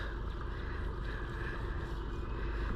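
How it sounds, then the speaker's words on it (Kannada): A boat engine runs in reverse while the hull sits stuck in mud, a steady low rumble with a faint high whine, close and continuous with wind noise over the microphone. "ಬಟ್ ಇವಾಗ ಬೋಟ್ ಜಾಮ್ ಆಗಿದೆ. ರಿವರ್ಸ್ ಹಾಕಿದ್ರು ಕೂಡ ಹಿಂದೆ ಹೋಗ್ತಿಲ್ಲ ಬೋಟು."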